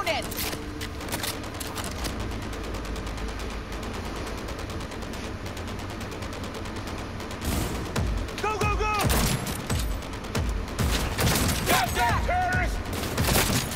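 Rapid gunfire in Cyberpunk 2077 during a firefight, repeated bursts and sharp shots crackling through steady game noise, growing denser and louder toward the end, with someone talking between volleys.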